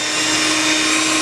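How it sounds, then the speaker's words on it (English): An electric hand mixer beats a cup of butter in a bowl, giving a steady, loud motor whine with a constant hum that holds unbroken throughout. "Beat your butter well"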